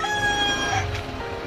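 A rooster crows once at moderate distance, a drawn-out call over faint background noise.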